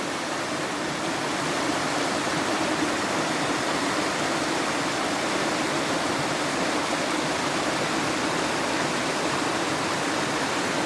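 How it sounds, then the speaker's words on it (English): A river in Uvita, Costa Rica rushes steadily, a broad, even wash of flowing water that stays loud and constant throughout with no voices. "Super beautiful river."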